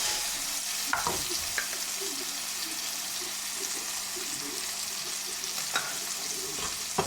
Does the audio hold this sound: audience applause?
no